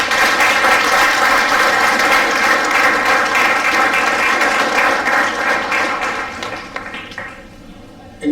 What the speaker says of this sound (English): May I request you to welcome them with a huge round of applause